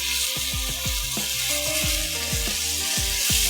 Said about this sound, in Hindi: मैं इसको भूनती हूँ